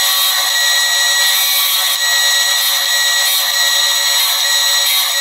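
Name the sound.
drilling holes in burn chamber wall with 3/32 drill bit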